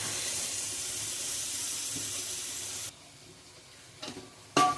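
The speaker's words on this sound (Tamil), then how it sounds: "அடுத்து கொத்தமல்லி, புதினா இதை போட்டு நல்லா வதக்கிடணும்." Coriander and mint sauté in a hot pan for mutton biryani, a steady close sizzle for a few seconds that then drops away, followed by brief stirring clatters.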